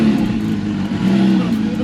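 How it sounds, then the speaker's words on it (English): A car fitted with a lightweight full titanium AR exhaust with its valves open idles and revs loudly up close, a steady low growl that swells briefly over about two seconds. "Lightweight, full titanium exhaust. It's got the AR exhaust. Open the valves, Calvin."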